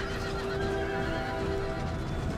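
Cavalry horses neigh in a loud, sustained whinny in the Empire: Total War strategy game, layered over constant battlefield rumble and galloping hooves.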